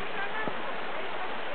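A fast-flowing mountain stream at Gemenea rushes steadily in a dense, broadband wash of water noise, close and continuous throughout.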